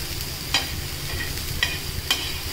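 Chopped capsicum frying in butter in a pan for a capsicum cheese sandwich, a steady soft sizzle with a few light stirring scrapes, close and without speech.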